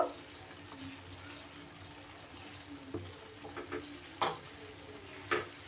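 Spices being gently stirred into cooked mango pickle, a soft continuous scraping and sizzle-like rustle with a few sharper clicks of the spoon against the pot near the end.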